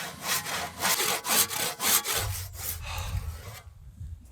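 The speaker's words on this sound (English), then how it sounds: "It's just like cutting a wooden log with a rusty saw." A hand saw cuts a wooden log in quick back-and-forth strokes, a rough rasping rhythm that is loud and close, then slows and fades near the end.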